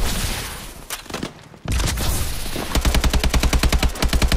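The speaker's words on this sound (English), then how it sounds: "So this gun shoots a bit slower." Rifle fire in Call of Duty: Advanced Warfare: a few heavy shots and booms early, then a steady, fairly quick run of loud, close rounds to the end, with no talk.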